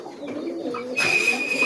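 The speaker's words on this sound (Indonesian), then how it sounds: "ini kan ada 2 merpati nih" Pigeons cooing at close range, a soft throaty coo followed by a brighter, sustained tonal call, with no voices over it.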